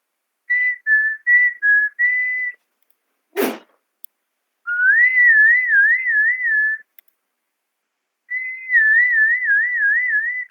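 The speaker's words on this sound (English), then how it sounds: "So that was whistling." A person whistles several short notes, then two longer warbling phrases, clear and close with silent gaps between them, and a single sharp noise in one of the gaps.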